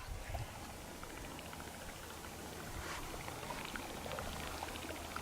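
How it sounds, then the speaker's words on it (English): Soft, low gurgling and bubbling water with faint trickles at a desert lake in Oregon, quiet and continuous, heard alone in an otherwise still outdoor setting. "You can hear like gurgling. It's really weird."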